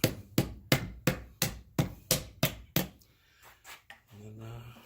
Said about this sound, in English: Just got me a hard mallet, and let's see what's going to pop out on its own.